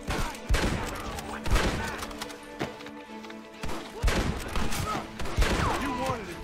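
Bolt-action rifle gunfire in Red Dead Redemption: several loud, sharp shots in irregular bursts, mixed with other gunfire and clattering battle noise across the scene.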